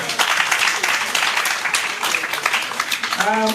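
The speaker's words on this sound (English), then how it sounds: "Let's clap." A summit audience on ending obstetric fistula applauds a fistula surgeon with continuous dense clapping from many hands, and a voice cuts in at the very end.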